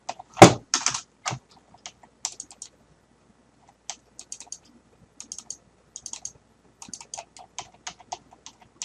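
A computer mouse clicks quietly on a desk, with sparse sharp clicks, many in quick double pairs, and one louder thump near the start.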